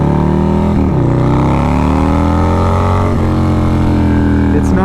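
A 150hp Harley-Davidson 131 motorcycle engine revs loud and steady, its deep rumble rising slightly in pitch with a couple of brief throttle blips.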